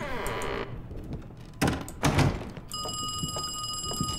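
A telephone rings in the video game Call of Duty Cold War with a steady electronic ringing tone, preceded by a couple of dull thumps like a door.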